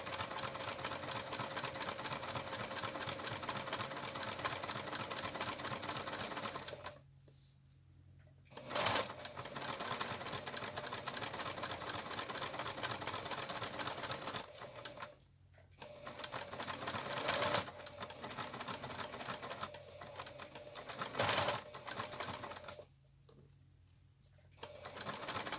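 A sewing machine stitching a loofah mitt, running in steady rapid bursts with short pauses between seams, close and fairly quiet.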